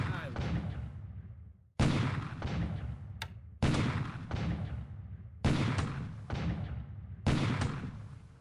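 Artillery guns fire in a WWII strategy game at Christmas Island in 1943: four heavy, booming blasts roughly two seconds apart, each with a long rumbling decay, loud and close with no talking.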